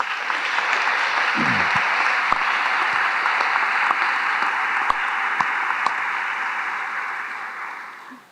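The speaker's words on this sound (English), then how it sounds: "How about a round of applause for their service?" Audience applause fills a college commencement at Thomas Aquinas College, a steady, dense wash of many hands clapping that holds strongly throughout and tapers slightly at the very end.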